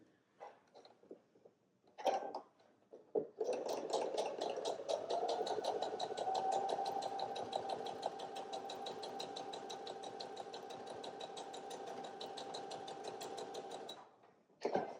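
A sewing machine runs steadily for about ten seconds as it stitches the final seam of a scrappy improv quilt block, a close, continuous mechanical whir with a fast rhythmic chatter, preceded by brief handling noises and stopping abruptly at the end.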